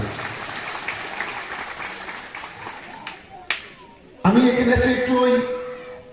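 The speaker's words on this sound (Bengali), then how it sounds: "আপনারা সবাই মিলে একটা করতালি দিয়ে অভিনন্দন জানান" Audience applause at a political rally of a regional party, a burst of clapping from a crowd that rises suddenly after a quieter stretch and continues loudly to the end, with a voice talking beforehand.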